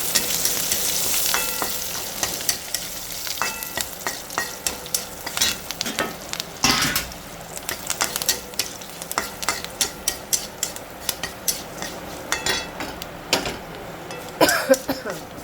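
Curry leaves and dried red chilies fry in hot oil for a home-style mixed vegetable curry, a loud crackling sizzle with repeated sharp spoon scrapes and clinks against the pan; faint talk underneath.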